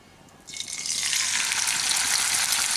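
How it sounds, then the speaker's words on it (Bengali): Prawns drop into hot mustard oil in a pan, and after a brief quiet moment a loud, bright sizzle bursts out and holds steady, close and continuous. "এখন আমি এর মধ্যেই চিংড়ি মাছগুলোকে ভাজার জন্য দিয়ে দিচ্ছি"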